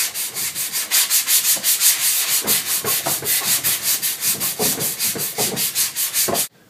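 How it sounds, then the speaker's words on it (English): A 180 grit sanding block rubs back and forth over a plastic bumper repair in steady, rhythmic strokes, loud and close with no talk. "Okay, now I've got it all 180 grit sanded."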